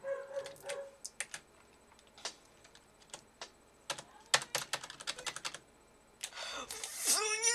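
A computer keyboard with sticky keys is pressed repeatedly in irregular bursts of sharp clicks, ending in a louder burst of noise.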